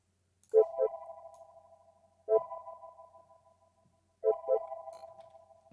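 Three bright synth tones pitched up seven semitones through a grain delay effect, with a shimmering, echoing tail, each striking then fading, spaced about two seconds apart in silence.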